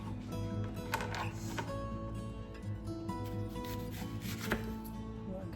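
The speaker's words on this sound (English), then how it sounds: "get 2 slices out of this, and then I'll go ahead and chop that." A knife slices and chops an onion on a board for cheesy zucchini chaffels, giving steady rapid taps close up over a busy kitchen background, with no talking.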